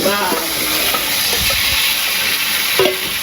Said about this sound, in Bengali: এই যে পেঁয়াজ ভাজা হয়ে গেছে আর মাংসটা দিয়ে দিই